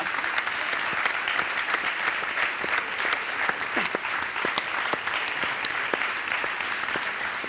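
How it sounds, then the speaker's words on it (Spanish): Steady crowd applause during an interview event, many hands clapping at a moderate distance in a continuous even wash for several seconds. "Un aplauso al Papa."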